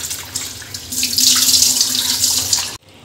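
Tap water runs over a muskmelon being washed in a kitchen sink, a loud hissing splash that swells after a second and continues steadily before cutting off abruptly near the end.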